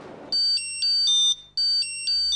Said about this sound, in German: Ein Wecker am Arm ist nicht neu.